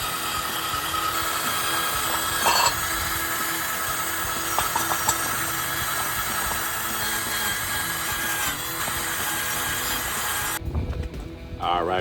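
Steady, loud grinding on old leaf spring hardware from a 1978 Camaro, a continuous abrasive rasp filling nearly the whole stretch before cutting off near the end.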